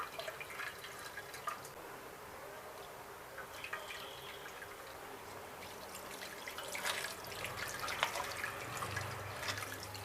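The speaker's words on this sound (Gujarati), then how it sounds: "આવી રીતે ઠંડુ પાણી ઉપર એડ કરી દઈશું એટલે બધી ખટાશ દૂર થઈ જશે" Cold water poured over freshly strained chhena for rasgulla, a steady trickling and dripping stream that runs throughout, fairly quiet and close, with no talking.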